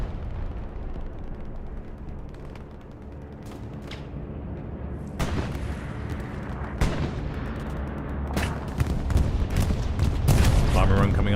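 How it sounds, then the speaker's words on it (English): Axis bombing run in the shooter game Hell Let Loose, Carentan town center: a dense rolling barrage of heavy explosions and booms building steadily louder and closer, with gunfire mixed in and voices talking over it. "that'll be an Axis bombing run heading to the west side"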